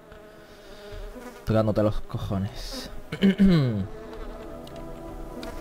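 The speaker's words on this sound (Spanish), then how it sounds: "cada vez se va alejando más todavía la mosca" A housefly buzzes steadily in a room, its whine holding through the whole stretch while someone speaks loudly over it in the middle.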